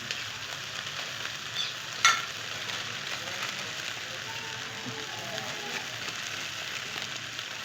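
Whole garam masala sizzles in hot oil while a spoon stirs it, a faint, steady hiss with a sharp metallic tap near the start and light scraping throughout.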